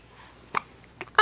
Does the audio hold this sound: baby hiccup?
yes